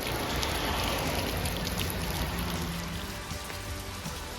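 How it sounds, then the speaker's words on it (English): Steady rain pours down in the mountains of Japan, a dense, even hiss of drops striking surfaces all around, continuous and fairly loud with no voices. "Rain kicked in, so I took shelter here."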